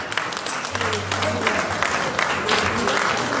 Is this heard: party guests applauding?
yes